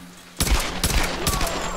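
Gunfire from a gun in the 2013 video game Tomb Raider: three loud, sharp bursts about half a second apart, each ringing out briefly over a steady background hum.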